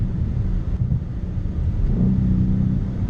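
Exhaust of a Ford Mustang GT (S550) with an aftermarket cat-back and muffler removed, rumbling steadily through downshifts around 4,200 RPM on a back road, with a rising engine note near the end, loud and close with wind noise.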